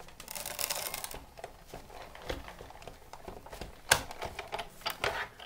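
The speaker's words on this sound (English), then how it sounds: "put on my top standard cutting pad, and then run it through the Big Shot" A Big Shot die-cutting machine is cranked while an egg die and embossing folder with a standard cutting pad pass through it, giving a quiet run of irregular clicks and ratcheting knocks with no talk.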